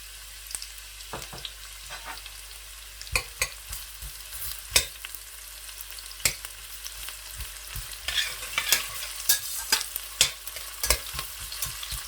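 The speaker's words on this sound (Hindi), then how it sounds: "ऑयल हमारा गर्म हो चुका है। अभी मैं इसमें प्याज जो है वो इस तरीके से ऐड कर दूँगा।" Onions fry in hot oil for black chickpea rice, a bright crackling sizzle punctuated by frequent spatula clicks and scrapes against the pot, close up with no talk.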